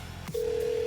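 A single steady telephone dial tone starts after a short click of a handset being lifted, holding loud and alone as a call is placed.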